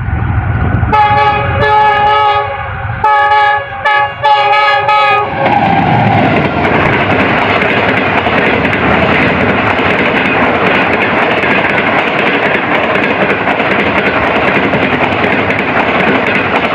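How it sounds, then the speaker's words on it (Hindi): Pakistan's Green Line Express passes Kana Kacha railway station at speed, its horn blaring in several loud sustained blasts before the roaring rush of the train takes over and continues steadily to the end. "सामने से पाकिस्तान के most luxury train 5 green line express आ रही है और 10 ट्रेन अर्ली चल रही है और अच्छी खासी स्पीड से पास थ्रू होगी"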